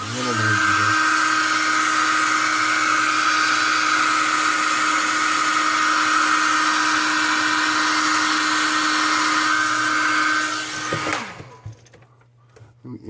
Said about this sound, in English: I'm going to heat set this with just standard hair dryer.